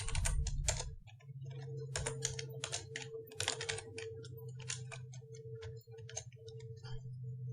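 Someone types PHP code on a computer keyboard in quick, irregular clusters of crisp key clicks, close and clear over a low steady hum, with no talking.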